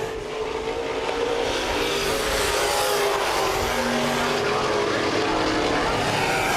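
Open wheel modified race cars circling a half-mile speedway, a dense, continuous roar of several engines heard from a distance, steady and fairly faint.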